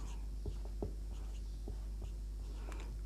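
A pen scratches across paper while a maths solution for a class 7 fractions and decimals exercise is written out, short strokes in an irregular rhythm over a steady low hum, with soft speech in the background.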